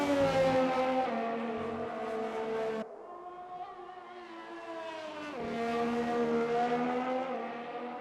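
Onboard Renault Formula 1 engine in an F1 racing game on medium tyres, a loud high-revving wail that cuts abruptly on a downshift, drops, then climbs again under acceleration; no voices.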